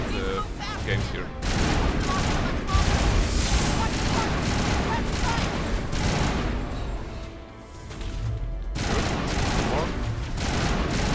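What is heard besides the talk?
gunfire in Mass Effect 1 video game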